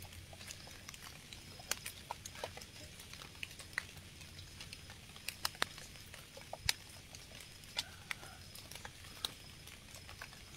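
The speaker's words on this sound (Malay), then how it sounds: "Air hujan, pasal ni tengah hujan gerimis." Light drizzling rain falling outdoors at night, a faint, continuous soft patter with scattered small drips and ticks, distant and low in level, with no speech.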